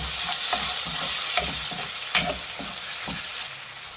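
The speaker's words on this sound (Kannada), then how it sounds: "ಈರುಳ್ಳಿ ಒಂದು ಮುಕ್ಕಾಲು ಭಾಗ ಬೆಂದಿದೆ ಬಟಾಣಿ ಹಾಕ್ತಾ ಇದ್ದೀನಿ" Onions and green peas fry in a pan for mango shavige bath, a loud, close, steady sizzle broken by brisk scraping stirs at a quick rhythm, with no voices.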